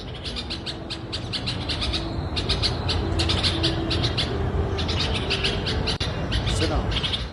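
Small birds chirp in rapid repeated bursts near a window, fairly close, over a soft background hum while a person speaks quietly.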